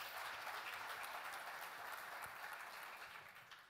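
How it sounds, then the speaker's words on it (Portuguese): Applause from a church congregation, a broad continuous wash of clapping from a large room that holds steady and slowly fades toward the end. "Uma salva de palmas para ele, meu irmão."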